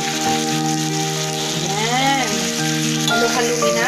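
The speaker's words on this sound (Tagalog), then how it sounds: "Inisa muna natin hanggang sa makapcook yung ating mga gulay. So ngayon, pwede na nating ilagay ang broccoli and cauliflower." Broccoli and cauliflower sautéing for chopsuey vegetables, a steady close sizzle and frying hiss filling the whole stretch, with a musical background running alongside.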